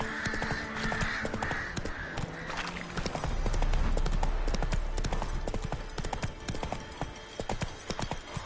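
Roach the horse trots in The Witcher 3 on PS5, hooves clip-clopping in a quick, loud, steady rhythm up close, with crows cawing in the background and a heavy low rumble midway.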